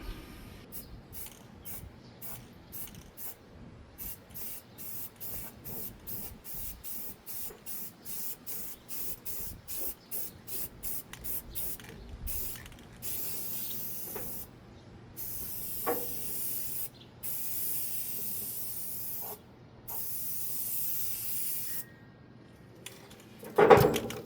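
Repeated bursts of spray paint hiss onto a Jeep XJ panel, short rhythmic spurts at first, then longer sustained sprays with brief pauses, close and clear with no talk.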